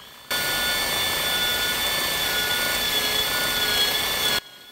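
A continuous high whining drill bores into metal intercell connector bars on an industrial battery load bank, running steadily for several seconds with a bright metallic grinding edge, starting and stopping abruptly.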